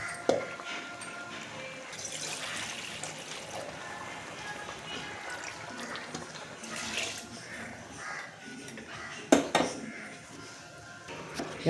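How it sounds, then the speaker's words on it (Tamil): Water poured into a cooking pot while making a vegetable biryani lunch, a broad splashing wash with clinks of pots and utensils throughout and a sharper clatter near the end, close and fairly loud. "தண்ணி ஊற்று."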